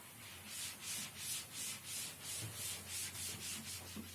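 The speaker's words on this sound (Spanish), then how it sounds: "Vamos a dejar un poco limpia la pizarra." A blackboard is wiped clean with rhythmic back-and-forth rubbing strokes, about a dozen evenly paced swipes, fairly soft and close in a quiet classroom.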